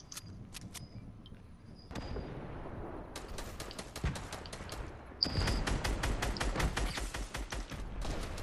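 Rapid gunfire rattles in Fortnite, bursts of sharp shots with high pinging hits, sparse at first and then a dense sustained volley over constant background game noise, with no talking.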